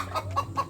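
Laying hens in a semi-intensive coop of about 200 birds cluck in short repeated calls, roughly three quick bursts over a low steady hum.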